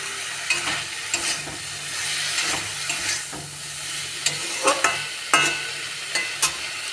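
Tender drumstick stems are stirred and fried with spices and chili powder in a pan. A steady sizzle runs beneath irregular close scrapes and knocks of the spoon.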